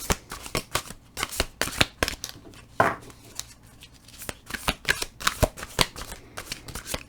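Tarot cards shuffled for a reading, a rapid run of crisp close riffles and slaps in uneven bursts, loud and alone without talk.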